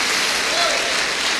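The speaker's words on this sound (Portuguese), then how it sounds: "Se você crê nisso, pode dar um aplauso ao Senhor." Church congregation applauding the Lord during a worship service, a dense steady clatter of many hands close around, filling the short moment without pause.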